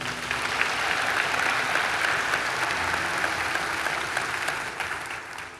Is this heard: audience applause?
yes